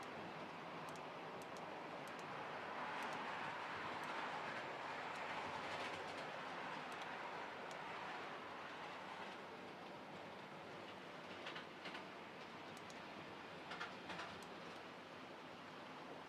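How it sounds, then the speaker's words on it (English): Model trains run around a layout with a steady, fairly faint rolling rumble and light clatter that continues throughout, with no talking. "So we got the same old trains running again tonight"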